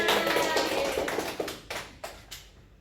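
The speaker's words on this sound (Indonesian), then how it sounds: "Tepuk tangan semuanya" A junior high classroom breaks into applause, a quick burst of students clapping that starts full and then thins out into a few scattered, separate claps before fading.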